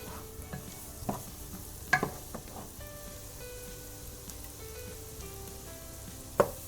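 Vegetables for a low-carb broccoli soup simmer and sizzle in a pot, a soft continuous bubbling with a few louder stirring clanks, close up and without talk.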